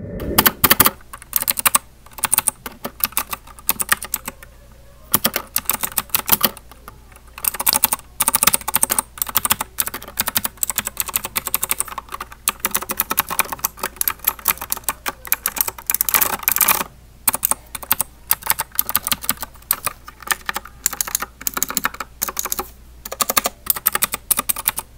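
Fast typing on an RK61 60% mechanical keyboard, close and crisp, with dense runs of clicky keystrokes broken by short pauses over about twenty-five seconds.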